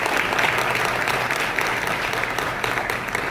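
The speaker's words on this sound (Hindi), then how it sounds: "एक बार चाहूँगी जोरदार तालियों से हम सभी उनका स्वागत करें।" A film festival audience in Delhi applauds, a dense, steady clapping from a large crowd that continues loudly throughout, with no voices standing out.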